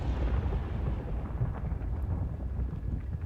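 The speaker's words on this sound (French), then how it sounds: "Ah, il y a un autre volcan. On va attendre que l'explosion se termine." Deep, continuous rumbling roar of an underwater volcano erupting in the video game Subnautica: Below Zero, loud and steady throughout with no voices.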